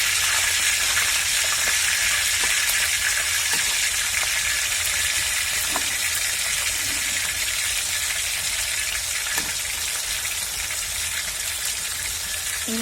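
Onions fry in hot oil for a Bengali-style deshi chicken, giving a steady, close, bright sizzle that crackles on without pause and with no voices.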